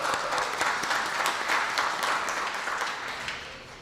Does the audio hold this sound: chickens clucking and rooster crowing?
no